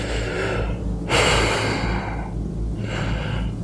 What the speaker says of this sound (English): My breathing speeds up.